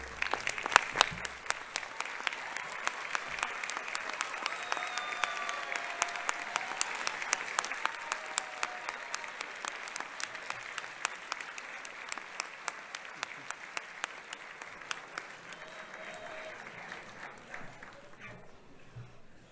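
Sustained applause from a large crowd at a university hooding ceremony, dense steady clapping that gradually tapers toward the end, no voices standing out.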